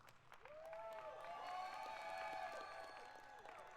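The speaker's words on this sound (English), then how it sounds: "Lots of applause down there on the floor." Applause from a distant crowd rolls on steadily and softly, while a tonal voice or whistle-like sound rises above it in the middle.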